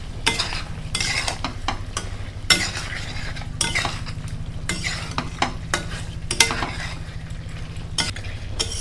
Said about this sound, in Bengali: মাংসটা দিয়ে ভালোভাবে নাড়িয়ে ঢাকা দিয়ে রাখতে হবে।